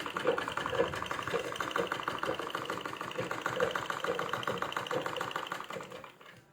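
A sewing machine stitches cloth in a fast, steady mechanical rhythm with tension set to 7, running close and continuous before winding down at the end.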